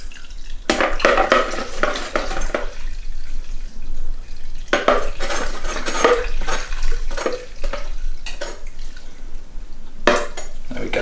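Brew-in-a-bag pale ale wort pours and splashes through a filter sieve, with bursts of liquid running and dripping and pot and utensil clatter in irregular spurts at close range.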